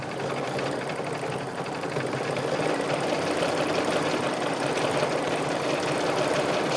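An embroidery machine runs a large stitch-out, a steady close mechanical whir with a fast needle rhythm that holds throughout, growing slightly louder midway.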